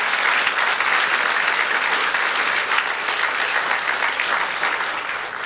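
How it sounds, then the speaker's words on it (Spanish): A church congregation applauds together, a dense, loud, continuous wash of clapping from many hands that holds steady for about five seconds and eases slightly toward the end. "Dele el aplauso con el corazón en el nombre de Jesús."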